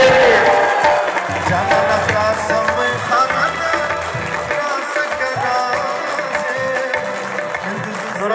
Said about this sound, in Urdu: تالیاں ہونی چاہیے